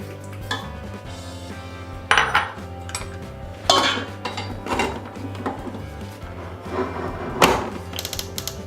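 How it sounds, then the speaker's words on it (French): Fresh pasta dough of flour, salt, olive oil and eggs being mixed in a bowl, with irregular clinks and scrapes of utensil against the dish, a few sharper knocks standing out, close and moderately loud with no voices. "J'amalgame ma pâte."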